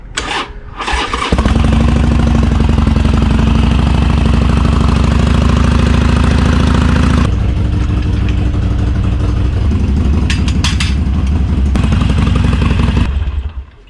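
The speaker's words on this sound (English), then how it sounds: "I'm just gonna keep it on idle for a few minutes and let the engine do its work to warm up." A Harley-Davidson Sportster motorcycle engine idles steadily and loudly close by, a deep, even low rumble that holds for more than ten seconds after a brief start before cutting off at the end.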